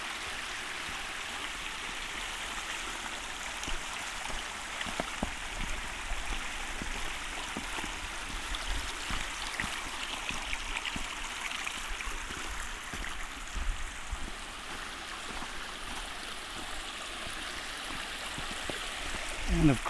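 A creek runs beside a mountain trail in the Catskills' Big Indian Wilderness, a steady broadband rush of flowing water heard at a moderate distance, with footsteps and faint movement over it.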